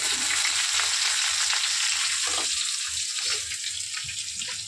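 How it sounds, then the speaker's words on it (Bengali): Vegetables fry in hot oil tempered with dried chili and nigella seeds, a steady close sizzle with small crackles and stirring scrapes running throughout. "শুকনো লঙ্কার কালো জিরে ফোড়ন দিয়ে দিলাম তেলে। এবার কেটে রাখা সবজিটা দিয়ে দেবো।"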